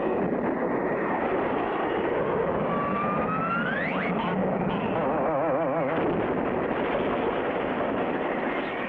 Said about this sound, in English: Frenchie Fontaine waits for the takeoff signal, not knowing the other end of the cable that's fastened to the pylon is hooked to his plane's tailpipe